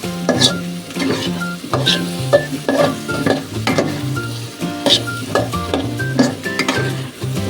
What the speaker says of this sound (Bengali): মাংসের মতো কষাই ফেলবো।